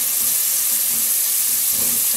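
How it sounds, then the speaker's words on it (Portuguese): Olive oil with softened, translucent onions sizzles and bubbles in a frying pan, a loud, steady, hissing crackle that runs nonstop and alone, close up. "borbulhando aqui o azeite"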